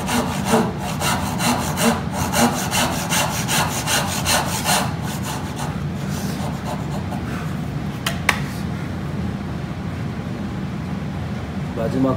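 Hand saw cutting wood for a dovetail joint in a woodworking class, steady rhythmic back-and-forth rasping strokes close up that slow and stop near the end, with someone talking over them.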